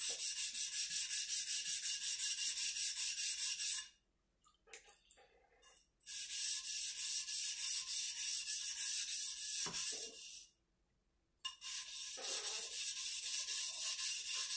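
Sharpening stone rubbed flat on a diamond plate: loud, steady gritty rasping strokes in long sustained runs, broken by two short pauses, close and alone without talk.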